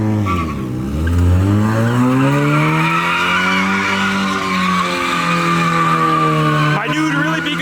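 A Mazda Miata spins in tight circles at a car meet, its tires skidding and squealing in a loud, continuous wail while the engine note rises and falls throughout.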